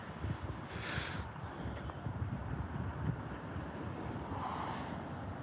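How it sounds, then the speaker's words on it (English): Wind blows outdoors through a cemetery on a chilly day, buffeting the microphone in a low, continuous rumble with a few faint gusts and no voices. "It's just been windy"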